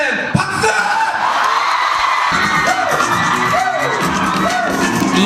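Lively crowd of children at a Korean b-boy event, whooping, cheering and yelling together in a loud, sustained burst that fills the space, with scattered shouts and laughter rising over the din.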